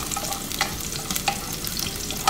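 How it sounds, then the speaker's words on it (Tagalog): Onions sautéing in a pan for a simple fish-and-tomato dish, a steady close sizzle broken by a few sharp stirring scrapes, with no talking. "So gisahin lang natin na konti."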